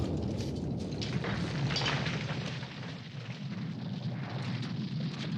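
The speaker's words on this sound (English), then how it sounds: "When it breaks, the explosion releases a cloud of burning ash, known as a pyroclastic flow." Volcanic eruption at El Fuego in Guatemala, a loud continuous rumbling roar with booming bursts that swells and eases slightly, heard without talk.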